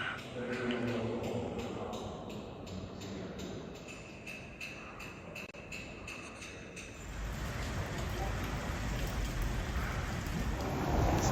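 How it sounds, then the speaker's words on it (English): Steady rain falls outdoors near a church in Sweden, a constant broadband hiss that grows louder and heavier in the second half, with no speech. "get out of the rain"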